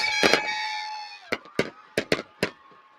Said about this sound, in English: the fireworks are going off here in East Canton